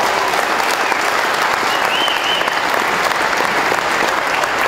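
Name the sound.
crowd applause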